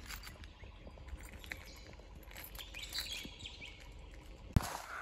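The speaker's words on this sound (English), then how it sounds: "Listen to the birds." Birds chirping outdoors along a hill track leading up to a radio repeater tower on a fine day, faint scattered calls over soft ambient noise, with a sharp knock near the end.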